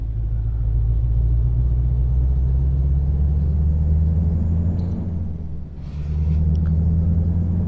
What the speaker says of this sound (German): Aber 500 PS mit V8-Sound, das klingt doch schon mal gar nicht so schlecht